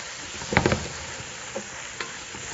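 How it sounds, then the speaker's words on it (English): Mushrooms and celery softening in a pan as the base for blue crab chowder, a constant close sizzle with a few soft spoon scrapes and taps of stirring over it. "now our mushrooms are starting to cook down a little bit"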